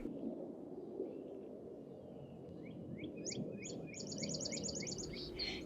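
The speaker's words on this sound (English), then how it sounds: "Look, the mother bird came back." A mother robin returning to her nest gives a run of quick, bright chirps that grow denser toward the end, faint against a steady outdoor background hum.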